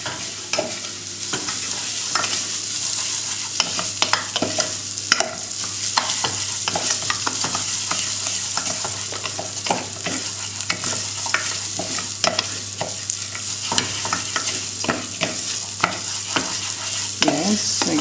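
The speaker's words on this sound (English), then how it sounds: "Risotto, rice. And this we toast it very well." Risotto rice toasts in a hot pan with a steady close sizzle, broken by frequent scraping stirs of a utensil.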